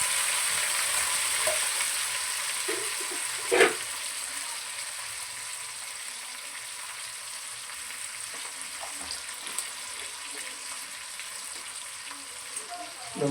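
Ground onion paste frying in oil for a mutton curry, a continuous soft sizzle with occasional stirring scrapes and one sharper clack, steady and close.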